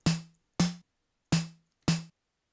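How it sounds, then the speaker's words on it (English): A software-emulated snare drum sample from the game Brandish 3 strikes four times in an uneven rhythm. Each hit is a sharp, bright crack with a short tonal thump that decays quickly, clean and alone against silence. "Now, when you play the snare in like something that isn't hardware related, you kind of get something that sounds like this"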